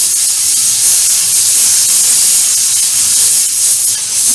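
Airbrush spraying paint onto a model StuG III Ausf G tank, a steady, close, loud hiss running unbroken from start to finish with no voices.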